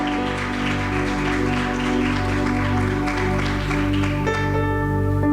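Church audience applause fills the space, a steady, sustained clapping throughout with a faint murmur beneath.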